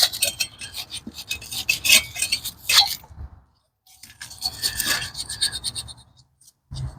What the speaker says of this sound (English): might want to sand it a little bit actually